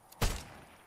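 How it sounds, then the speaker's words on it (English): A single sharp gunshot from a video game, loud and close, with a brief burst and a short decaying tail into quiet background. "Ignore the gunshots."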